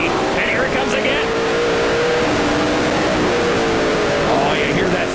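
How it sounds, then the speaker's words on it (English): A stock car engine screams at high revs, bouncing against the rev limiter during a race, loud and sustained with steady harmonic whine; a commentator talks over it. "Oh, you hear that thing right up on the rev limiter."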